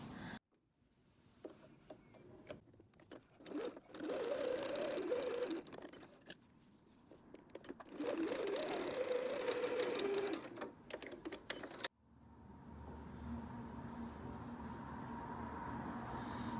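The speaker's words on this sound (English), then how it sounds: "we're going to go to our sewing machine and sew just up each of the two short sides to keep this in place" A sewing machine stitching the short sides of a fabric needle book, with clicks and handling noise, then two close bursts of rapid whirring stitching, followed by a quieter steady hum.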